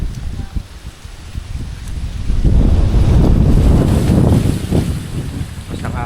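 Strong, gusty wind buffets the microphone at sea during a fishing tournament, with a low rumbling roar that swells in the middle alongside faint water and boat noise.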